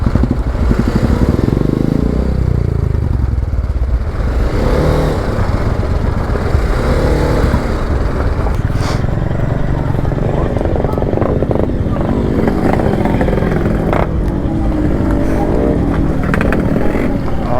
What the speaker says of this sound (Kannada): Harley Davidson,